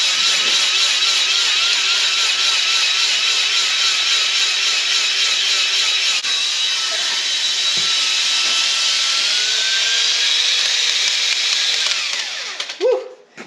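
A power drill mounted on a stand, boring a homemade hay core sampler, whines steadily and loudly for about twelve seconds, then winds down and stops with a few brief clunks at the end.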